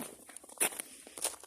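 Footsteps crunching through snow in cold weather, a series of uneven steps, some louder and closer than others, with faint breath or voice sounds between them.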